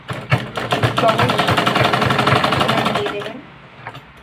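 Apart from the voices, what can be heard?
sewing machine stitching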